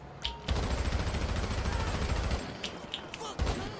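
Gunfire in a GTA game: a dense burst of repeated shots running for about two seconds, then a few scattered, sharper cracks, with game sound beneath and a brief voice sound at the start.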